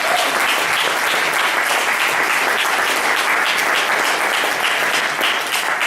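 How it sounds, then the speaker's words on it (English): A panel audience gives a round of applause, a full, even burst of many hands clapping continuously at a steady loudness with no talk over it. "So please, a little round of applause for that."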